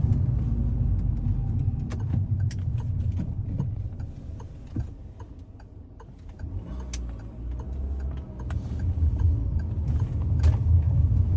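A small car drives steadily along a road, its low engine and tire rumble constant, with faint ticking and light rattles inside the cabin.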